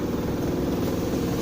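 A Polytron PWM-7556 washing machine's spin dryer, with its brakes removed and the timer set to 1, runs with a steady, loud mechanical hum and low rumble, continuous and close, with no voices.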